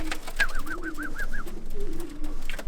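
Racing homing pigeon hens coo in a loft, a soft, steady run of repeated rolling coos close by over quiet background noise.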